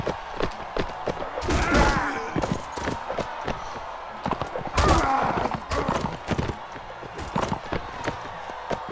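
A horse in the video game Mount & Blade Warband pounds along in irregular hoof thuds and clip-clops, with heavier impacts at intervals and a faint voice now and then.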